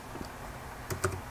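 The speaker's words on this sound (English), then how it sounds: "I only typed two O's and made three" A few quick taps on a Satechi Slim X1 wireless keyboard, close and crisp, clustered near the end against a quiet background.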